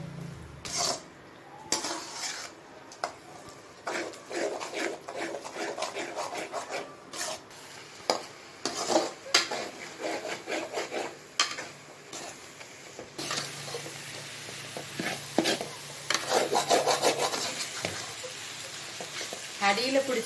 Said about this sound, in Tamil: அடியில பிடிச்சுக்கும் நல்லா கிளறி கிளறி விடுங்க.